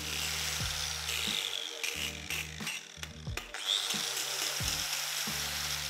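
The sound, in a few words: angle grinder sharpening a pencil, held in a vise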